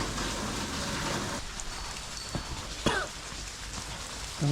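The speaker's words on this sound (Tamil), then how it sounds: "செம்ம மழையாக இருக்குது" Heavy rain pours steadily on a garden with banana trees, a dense even hiss that eases slightly partway through, with a few faint knocks and squeaks in the background and no talking.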